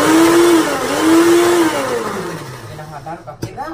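A blender whirs steadily and loudly as it mixes eggless mayonnaise with vinegar and sugar, the motor pitch dipping and rising as it runs, then stopping with a few clunks at the end.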